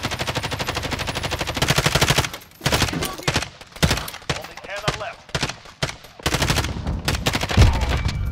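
Rapid gunfire from an R9-O shotgun in a first-person shooter video game, loud and dense with bursts and brief gaps, mixed with other weapon fire and game effects, and players talking under it.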